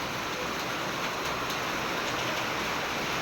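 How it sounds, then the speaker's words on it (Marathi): Steady, dense rain hiss fills the whole span, a continuous broadband wash with no pauses and no voices. "आला पाऊस वाढला पाऊस आतपाडीत खतरनाकच पाऊस असतो"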